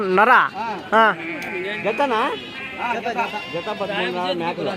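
Goats bleating repeatedly and loudly up close at a busy livestock market, several wavering calls overlapping with people talking nearby.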